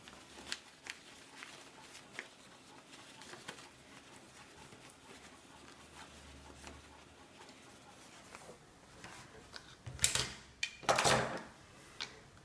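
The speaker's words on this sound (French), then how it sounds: "je retourne ma trousse par l'ouverture laissée" A sewn fabric pouch is turned right side out through the opening left in its seam, giving soft rustling and brushing with a couple of louder, crisp handling bursts near the end. No one speaks.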